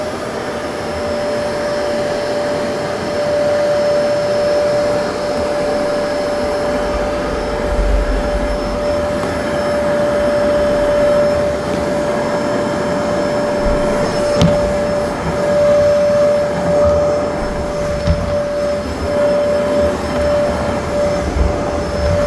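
A Zero-G F3d floating vacuum cleaner runs steadily and loudly throughout, a continuous motor whine and airflow roar with a faint sustained tone and only slight shifts in level.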